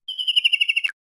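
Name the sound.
kingfisher call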